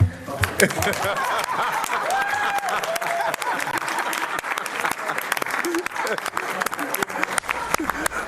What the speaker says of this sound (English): Y'all don't want to clap?